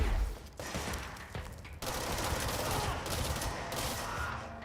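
A weapon in Control fires rapidly in a dense, sustained stream of loud shots, with brief pauses between bursts.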